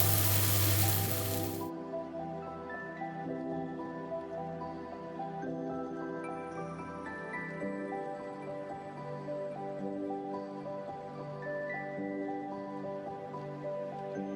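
Chicken mince frying in a pan with ginger and garlic added, a loud burst of sizzling at the start that gives way to steady music for the rest.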